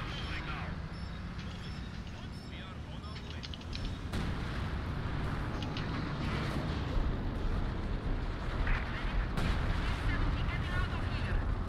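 Mortar rounds land during a 4v4 multiplayer video game match, a continuous low rumble of distant blasts with a couple of sharper impacts.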